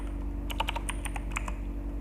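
Quick run of keystrokes on a computer keyboard as a command is typed into a Linux terminal, a close, clicky burst of about a dozen taps over a steady low hum.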